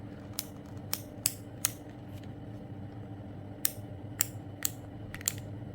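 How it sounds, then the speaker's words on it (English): Taper lever on a SUPRENT MECHA HC625 hair clipper clicking, eight sharp close clicks in two groups of four over a low steady hum, with no voices. "Clicking lever"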